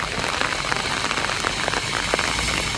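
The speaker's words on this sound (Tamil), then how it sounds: "விருதுநகரில் பெய்த மழையால் அரசு மருத்துவமனை சாலைகளில் மழைநீர் பெருக்கெடுத்து ஓடியது" Heavy rain pours steadily in Virudhunagar, a dense, continuous hiss of drops hitting the ground with scattered spatters throughout, loud and close with no voices.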